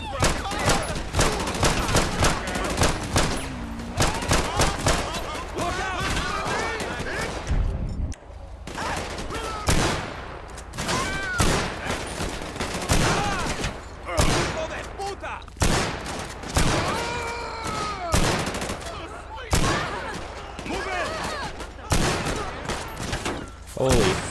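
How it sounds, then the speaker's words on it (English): Dense bursts of automatic gunfire and rapid shots ring out at an armored vehicle during a robbery in the video game GTA 5, with excited voices talking over the loud, nearly continuous shooting. "they're going to start shooting at it"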